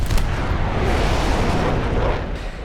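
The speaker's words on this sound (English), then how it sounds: "who can forget the notoriously difficult to aim combination of 23 and 37mm cannons" MiG-17 23mm and 37mm cannons firing in War Thunder, heard as a dense, loud, sustained roar of rapid booms with no clear gaps.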